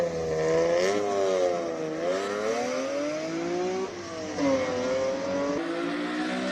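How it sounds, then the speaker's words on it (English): A late-1990s BMW E36 M3 straight-six at a Cape Town hill climb, revving hard and close with rising and falling engine pitch through gear changes, loud and continuous with no talk. "Just absolutely love the sound of a 6-cylinder from the 90s, late 90s"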